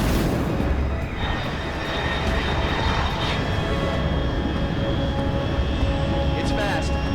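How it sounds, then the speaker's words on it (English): A fast jet aircraft at high altitude roars past in the stealth action game Metal Gear Solid Delta: Snake Eater, a steady, dense broadband rumble that holds loud throughout under a faint radio voice. "Unidentified aircraft detected."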